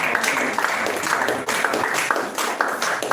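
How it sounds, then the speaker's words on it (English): An audience at a web3 blockchain meetup in Nigeria claps steadily, a dense crackling wash of many hands that swells and dips slightly throughout. "A big round of applause for him."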